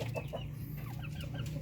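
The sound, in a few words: Darag chickens clucking in a cage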